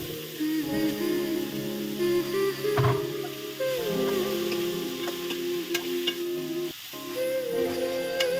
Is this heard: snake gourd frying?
yes